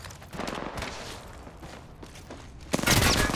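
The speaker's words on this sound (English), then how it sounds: "Taking fire." Gunfire crackles in the battle royale shooter Apex Legends, with scattered distant shots and rattling bursts followed by a sudden louder volley close by at the end.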